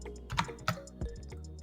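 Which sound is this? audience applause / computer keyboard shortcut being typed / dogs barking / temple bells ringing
computer keyboard shortcut being typed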